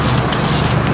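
Spray paint hissing in a steady, loud, continuous burst while painting a Corvette outdoors in the wind.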